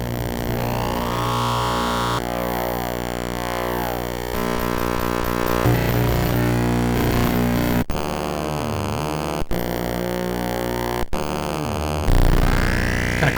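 Raw audio from the red, green and blue color channel outputs of a Glitch Hornet GVS008 video synthesizer: a loud, dense, alien wash of buzzing harmonic tones and static that shifts pitch and texture, with abrupt cuts and dropouts partway through.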